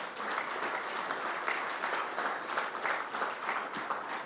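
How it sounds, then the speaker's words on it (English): Sustained applause from an audience at an African heritage awards ceremony, a dense, steady wash of many hands clapping throughout, fairly loud and even with no talk over it. "give him a round of applause"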